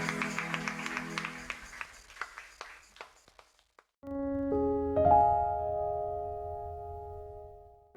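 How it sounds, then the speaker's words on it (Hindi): Church congregation clapping at a Sunday service, a burst of many hands that thins into scattered claps and fades out, followed by sustained organ-like keyboard chords. "केवल यीशु मसीह के लिए एक जोरदार तालियों का नाम दें"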